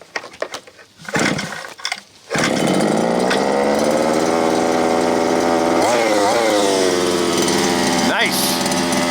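A 29cc gas-powered Kraken KV5TT RC truck engine is yanked by its pull start, sputters, then catches and holds a loud, steady high-pitched two-stroke buzz, revving briefly twice while a voice speaks faintly near the start.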